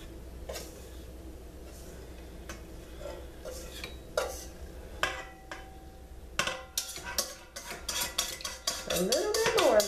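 A utensil scrapes and clinks against a mixing bowl as dry ingredients are stirred into activated yeast. The knocks come irregularly at first and grow into a fast, busy clatter toward the end, close and fairly loud, with no talking.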